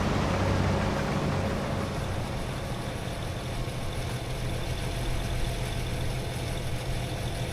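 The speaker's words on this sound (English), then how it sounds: "Isn't that engine noise?" A farm machine engine idles and ticks over steadily during a big Saskatchewan harvest, a constant low rumble with a faint hum and no talk.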